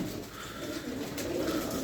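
A flock of pigeons feeding on grain coo softly and continuously, close by, over a brief stretch with no talk.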